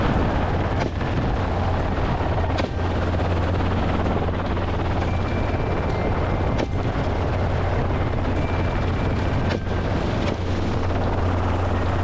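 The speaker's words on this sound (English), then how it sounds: "Helicopter hog hunting, a strategy combining military technology with professional hunting skills" Helicopter flying over open country during a wild hog hunt, a loud continuous rotor drone with a steady thumping beat and a few sharp cracks breaking through.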